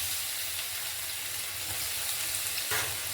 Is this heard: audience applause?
no